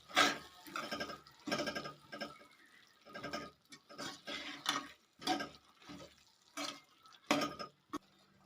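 Soaked dal stirred with rice in a cooking pot, a series of wet, sloshing strokes in an uneven rhythm, close but fairly quiet.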